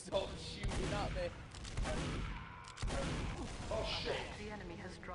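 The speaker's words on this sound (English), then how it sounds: "Stop shooting at me." Gunfire in a Team Fortress 2 tournament match, dense overlapping shots and impacts running throughout, heard under excited commentators talking over the action.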